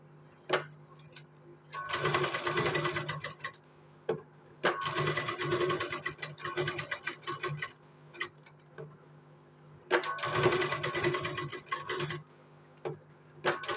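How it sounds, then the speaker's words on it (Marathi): Sewing machine stitching a blouse sleeve, running in several bursts of rapid, steady mechanical clatter separated by quiet pauses and occasional single ticks, close and fairly faint, with no talking. "स्लीवच्या त्याच्यावरती एकदा शिलाई मारून घ्यायची आहे"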